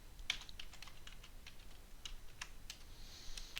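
Quiet, close-up typing on a computer keyboard while writing Python code, a run of light irregular key clicks with brief pauses between them, no voices.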